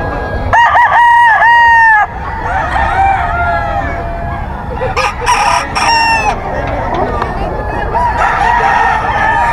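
A Sweater-breed gamefowl rooster crows loudly and close several times in a row, each call a strained, rising cock-a-doodle-doo, over a busy farm backdrop of other fowl clucking and faint human voices.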